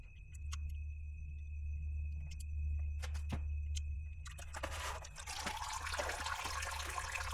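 Transmission fluid drains from the pan of a 2020-or-later Ford GT500, a steady trickle that rises into a louder, fuller splashing pour over a low mechanical hum, with no talking.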